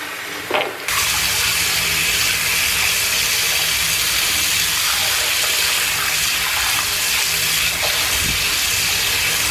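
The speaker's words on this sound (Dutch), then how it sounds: "Ik ga lekker in bad. Hij is al bijna vol." Water gushes continuously into a bathtub, a loud, close, steady hissing roar that starts abruptly after a brief moment of handling noise and carries on unbroken to the end.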